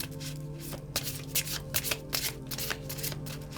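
Tarot cards being shuffled by hand, a steady close riffling and flicking with soft irregular slaps, continuous and fairly quiet with no talking.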